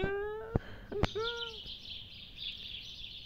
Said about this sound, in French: Oh, on entend les oiseaux chanter.